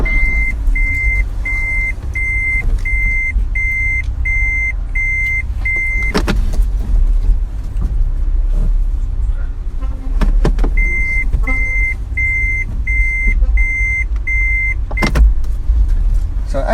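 An off-road car manoeuvres and turns in a continuous low engine rumble, with two bursts of repeated electronic warning beeps, a few sharp clunks along the way, and no talking.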